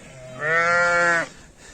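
A single lamb on a farm lets out one clear bleat, close and loud, lasting just under a second and standing alone against quiet surroundings.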